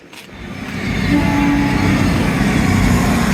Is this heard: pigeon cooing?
no